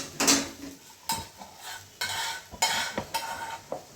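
Spices are sautéed and stirred in a hot pan for an ichor chingri dish, with a soft sizzle broken by several distinct scraping strokes of a utensil against the pan at irregular intervals.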